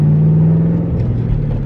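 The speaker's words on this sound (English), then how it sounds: "I wanted you guys to listen at this exhaust leak I have" A Ford Mustang Cobra idles with an exhaust leak, giving a close, steady low rumble with a droning hum that holds evenly throughout, with no voices.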